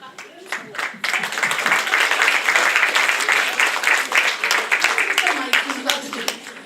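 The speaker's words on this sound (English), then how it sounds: "I think we give a round of applause to a wonderful" A round of applause at a closing ceremony, dense clapping from a crowd that swells after a quiet first second and carries on steadily, with some voices mixed in.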